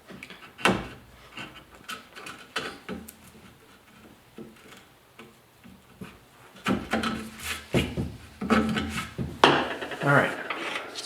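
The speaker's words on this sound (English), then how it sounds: "Now this only works if your chisel is sharp." A sharp chisel pares wood for a rustic picture frame, making a series of scraping, rasping cuts and taps at an irregular rhythm, close and moderately loud, growing denser and louder toward the end.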